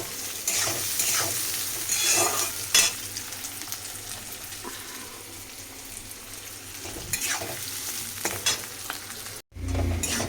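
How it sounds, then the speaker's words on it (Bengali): Onions sizzle steadily in a hot pan as a spoon scrapes and stirs them now and then, close by, with no one speaking. "পেঁয়াজটা আমার ভাজা হয়ে গেছে"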